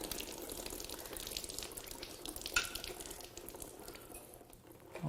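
Oil draining from an overturned Hyundai Genesis 4.6 V8 Tau engine during a teardown, a steady close liquid trickle and splatter that runs continuously with a brief louder spatter midway.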